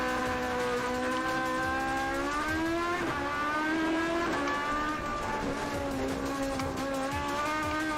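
A Toyota AE86 Trueno engine screams near 11,000 RPM in a sustained, steady high-pitched wail with rich layered harmonics, loud and close with slight pitch wavering, and no voices over it.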